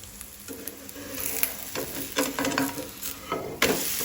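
A Goan onion bhakri pressed on a banana leaf fries on a tava after oil is poured around its edges, giving a light sizzle broken by a few close scraping strokes and taps, with no voices.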